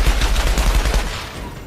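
Gunfire exchanged with snipers in the shooter Outriders, a loud rapid string of sharp cracks and thuds over about a second, then tailing into fainter rattle.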